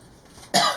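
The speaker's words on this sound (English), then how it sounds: "What's got me coughing?" A single short, sharp cough close by, after a brief stretch of quiet room noise.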